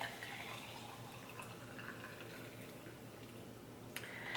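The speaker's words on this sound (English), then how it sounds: "And pour in our water." Hot water pours steadily into a tea infuser holding loose Fireside Mate Chai leaves, a soft, continuous liquid wash heard close and quiet, ending in a small splash.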